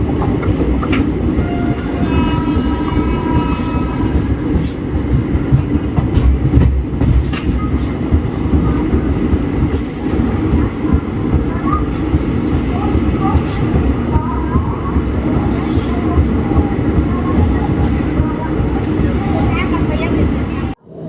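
Steady rumble and rattle from onboard a Chennai to Thiruvananthapuram superfast express train running at speed, with continuous wheel and carriage noise and occasional high squeals and clicks throughout.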